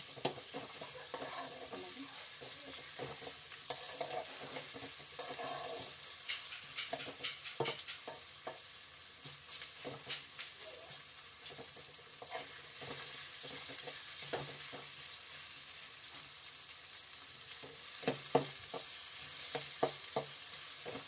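Thinly sliced vegetables for paneer fried rice fry and hiss steadily in a pan, broken by repeated scraping stirs and occasional sharp clacks of the spatula, close and moderately loud with no speech.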